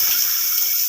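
Tap water running into a kitchen sink for washing dishes, a steady close hiss and splatter of the flow with no voices.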